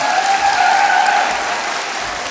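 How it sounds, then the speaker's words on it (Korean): A hall audience at a children's song festival applauds a primary school choir with steady, sustained clapping that stays fairly loud and even throughout, with no voices over it. "더 크게 박수 부탁합니다."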